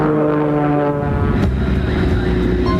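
Aerobatic biplane engine and propeller drone loudly and steadily as it flies at an air show, a continuous nearby roar without voices.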